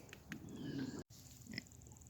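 A young boar pig grunts and snuffles softly in its pen, with a few short, low grunts and sniffs, heard faintly and close against quiet background noise.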